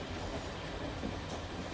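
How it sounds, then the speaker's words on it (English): A passenger train runs along the rails with a steady rumbling roar and faint clatter of wheels, heard from inside a carriage at a low, even level. "No, I'm on the train."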